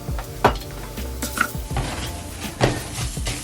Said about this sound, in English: all we're going to do is stir the rice in and just give it a slight toast